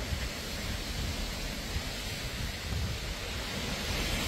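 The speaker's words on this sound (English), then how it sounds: "we have the strongest wind so far. You see, rain, just a little rain, the wind." Hurricane Milton's strongest wind so far buffets Kissimmee, Florida around 3 a.m. with light rain, a steady, loud, broadband roar of gusting air and patter that never lets up, with no voices.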